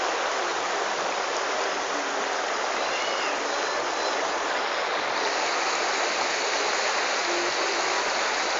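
Ganges river water flowing at a bathing spot, a steady, continuous rushing wash that holds even throughout with no voices.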